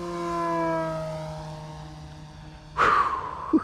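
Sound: model propeller airplane flying

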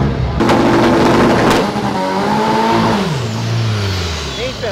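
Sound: car engine revving at a street race

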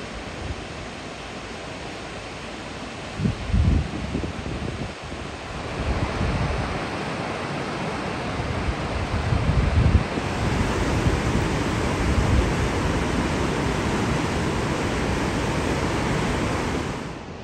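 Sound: powerful rushing river along Afghanistan border

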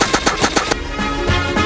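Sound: cannon shooting zombies in Roblox Plants vs Zombies video game

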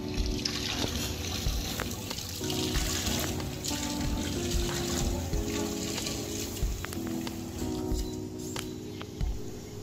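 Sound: endoscope rinsed under running tap water

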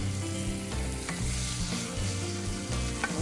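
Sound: stirring food in a pan, mixing ingredients

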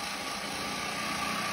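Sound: bike engine idling as it is put in gear

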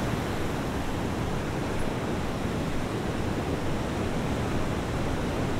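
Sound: ocean waves

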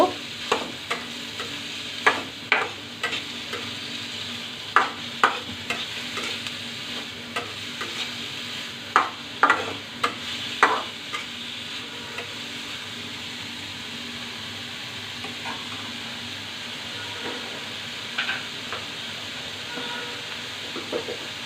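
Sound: onions frying in a pan

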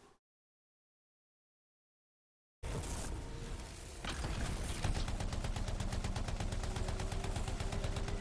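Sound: railgun and weapon fire in a video game

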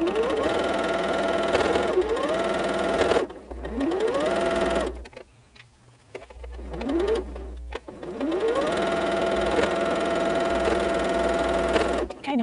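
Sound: sewing machine stitching quilt seams

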